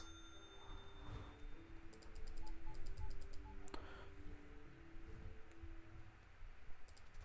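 Faint, quick mouse clicks sound in small clustered runs while playing the store-management game Supermarket Together, soft and close against quiet game music tones.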